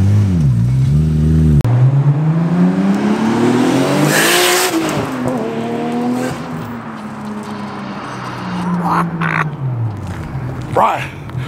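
A Nissan R32 GT-R with a 750-horsepower 2.8-liter RB26DET engine accelerating at full power, loud close revving that climbs through the gears, with tire noise and excited voices over the roar as the car pulls away.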